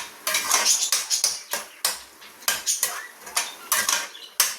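A metal spoon repeatedly clinks and scrapes against a pan while onions and green chillies are sautéed for chicken dhonnai biryani over a high flame. The clatters are close and loud, coming in a quick, uneven rhythm, with no talking.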